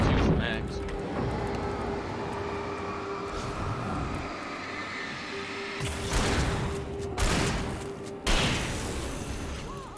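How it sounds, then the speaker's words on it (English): A 12 gauge shotgun fires in the video game Alan Wake, several sharp booming blasts spaced a second or so apart over a low rumbling background, with people talking. "Just firing off 12 gauge."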